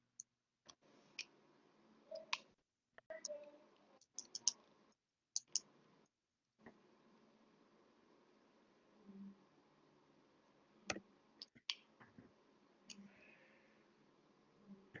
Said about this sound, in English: I was just clicking on things.